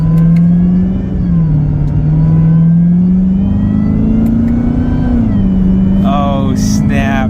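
A Chevrolet Corvette C7 Z06 engine drones under acceleration with a steady high-pitched supercharger whine that rises and dips with the revs, heard from inside the cabin.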